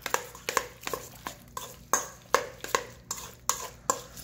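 Mayonnaise and egg being stirred together for egg salad, with a steady run of about ten moist scraping strokes from a utensil against a bowl, close and clear, no talking.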